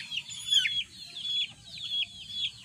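Tornado hatch chickens of a Mt. Banahaw line cluck softly in a close, repeated run of short calls, with faint low background noise beneath.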